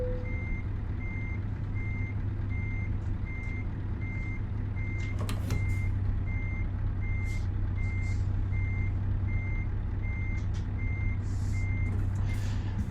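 Steady reversing beeps from a truck in a truck-driving simulator game pulse at an even rhythm over a constant low engine drone, with a brief hiss and a few clicks partway through.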